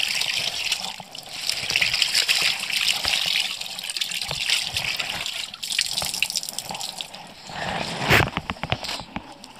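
A tea-stained cloth is washed under running tap water, with a continuous splashing gush and trickle, close and fairly loud, broken by wet rubbing and brief sloshes.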